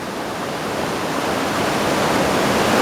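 A waterfall at the João Neri bridge in Poços de Caldas, Minas Gerais, gives a continuous, loud, close-up rushing roar with no pauses or other sounds.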